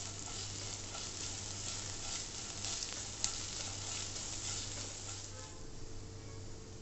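Chopped ginger fries in ghee for sabudana khichdi with a steady, even sizzle close by that runs the whole time, with one sharp tick near the middle.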